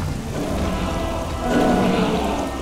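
Rainfall in Castlevania: Lords of Shadow makes a steady, dense wash of noise that swells a little midway, with a low rumble beneath and no voices.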